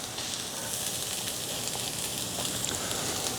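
Garlic and ginger sizzling in a hot pan with white scallion parts, a steady bright crackling hiss that holds evenly and fairly softly throughout.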